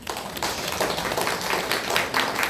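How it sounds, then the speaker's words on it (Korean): Congregation applause during a Sunday church service, a dense burst of many hands clapping that carries on for a couple of seconds, close and lively, with no talking over it. "박수를 한번"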